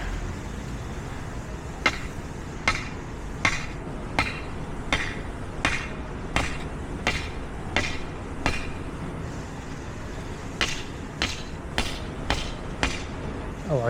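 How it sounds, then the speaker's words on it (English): A metal hammer striking a metal stake being driven into the ground for a temporary garden trellis: a series of sharp, ringing clanks at a steady pace, a short pause, then more blows, over faint outdoor background. "Using this metal hammer on this metal stake."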